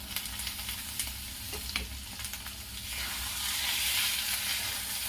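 Boiled green peas tipped into a frying potato curry in a home kitchen pan, giving a steady broadband sizzle with a few stirring clatters, swelling louder toward the end, no voices.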